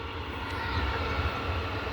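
A train passes near a village beside paddy fields, giving a steady, moderately loud rumble and rolling drone throughout, with no voices over it.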